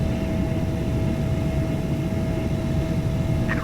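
An airliner sits at Heathrow ready to take off in the FS2004 flight simulator, with a steady engine drone and a constant whine heard from the cockpit. A faint chirp comes near the end.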